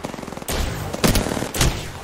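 Gunfire in the battle royale game Apex Legends, played on PS4: a rapid run of close shots followed by three loud, dense bursts of automatic fire spaced about half a second apart.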